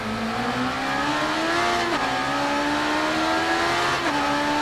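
A motorcycle engine in the RIDE 3 racing game revving hard in first gear, the whine climbing steadily, dropping briefly at two quick shifts or throttle dips, then rising again, loud and close without any talk.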